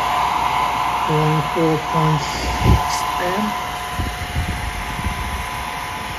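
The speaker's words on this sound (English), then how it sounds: "you should have no problem running this smaller hair dryer here" A small hair dryer powered through a 1500 W pure sine wave inverter hums steadily with a constant whine while a person speaks briefly over it and a few electronic beeps sound.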